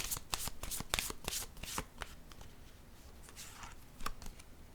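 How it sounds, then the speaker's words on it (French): Tarot cards are shuffled and slapped down in a quick run of crisp riffling clicks and flicks, close and fairly quiet, easing into softer handling and a final card placed down. "Je vais déposer une carte rose par curiosité pour ce couple."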